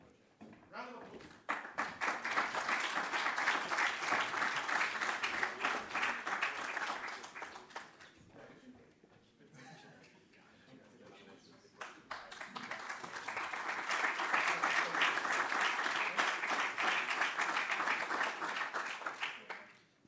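Two bursts of conference audience applause at the UIC Digital Conference 2018 during an award presentation, dense clapping that swells, fades into a near-quiet gap, then rises again strongly.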